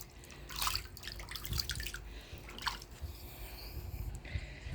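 Water splashed by hand in a small garden pond in a yard in Maricopa, Arizona, in several short sloshing bursts over quiet outdoor background.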